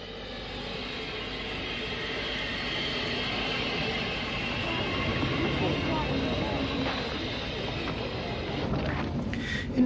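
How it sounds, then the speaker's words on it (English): A steam train hauled by a JT Class 2-4-2 locomotive, No. 93, approaching Balergan station on the Dundalk line, a steady rumbling roar building slightly as it nears. "a train approaches Balergan station, hauled by JT Class 242,"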